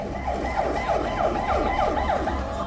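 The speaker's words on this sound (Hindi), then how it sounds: "लगातार एम्बुलेंस आ रही थी" An ambulance siren wails in fast, repeating rising sweeps, loud and fairly close, over a low rumble of traffic, after the 2022 Seoul Halloween crowd crush.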